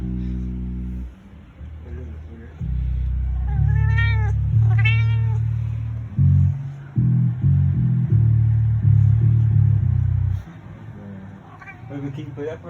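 A Maine coon cat meowing two or three times, drawn-out wavering calls over a loud low rumble, with people talking nearby.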